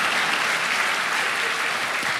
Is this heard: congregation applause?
yes